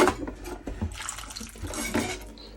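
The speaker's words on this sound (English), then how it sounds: "So put some water in the potato, get that cooking as well." Water is poured into a cooking pot holding potatoes, a short near splashing and trickling fill with a soft liquid gurgle and no talk.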